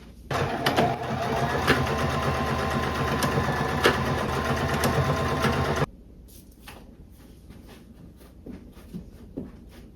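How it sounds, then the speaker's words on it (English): Sewing machine running straight stitches to tack a neck strap onto a thrifted garment, a loud continuous mechanical whir with rapid needle ticking that stops partway, followed by quieter handling clicks. "do a couple straight stitches to hold it in place"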